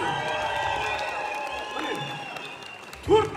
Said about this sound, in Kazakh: 4 официант шапалақ ұрды ғой.